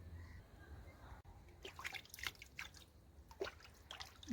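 Water dripping and splashing as someone washes their head and face outdoors on a rainy day, with irregular close drips and small splashes over a low background rumble.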